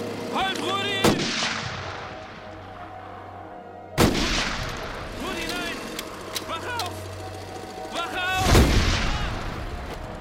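Gunfire in a wartime film scene set during the German occupation: a few sharp, loud shots with long decays, heard among background music and raised voices.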